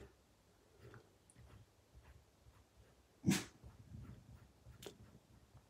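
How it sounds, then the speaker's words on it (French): A dog makes faint whimpers and snuffles in a quiet room, with one sharper yelp standing out in the middle. "si vous entendez quelque chose, c'est mon chien"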